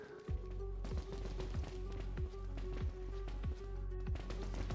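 Prowler P225 pistol in Dead Frontier firing a steady series of about nine quiet, evenly spaced shots, each a short dull thump over a constant low game background.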